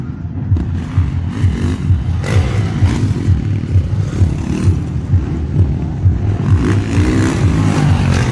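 A motorcycle engine drones steadily and loudly nearby, with a rough low rumble and some clatter as it rides past, no talking over it.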